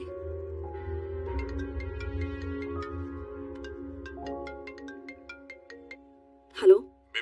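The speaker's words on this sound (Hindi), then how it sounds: "बिम्बी, तुम्हारे लिए कॉल है।" A melodic phone ringtone plays steadily for several seconds, with layered tones and a low hum beneath, before a brief louder burst near the end, in a Hindi-dubbed action film.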